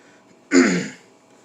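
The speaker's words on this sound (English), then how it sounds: "I'm clearing my throat" A man clears his throat once, a short close rasping burst in an otherwise quiet room.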